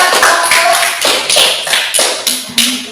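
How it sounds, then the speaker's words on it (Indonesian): Classroom applause for a presenting student group, heard as a short burst of several hands clapping at close range, loud and a little uneven, with no talk over it. "Oke, tepuk tangan untuk kelompok 1"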